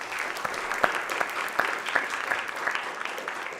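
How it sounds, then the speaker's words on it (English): Steady applause from an audience, a crowd clapping continuously with a few sharper claps standing out, moderately loud and without talk. "Let's have a round of applause for all of the candidates"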